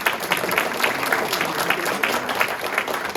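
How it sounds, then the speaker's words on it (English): Live radio studio audience applauding on cue, a dense, steady burst of many hands clapping close to the microphones, sustained at full strength throughout with no voices. "I would like you guys to go ahead and applaud over the air."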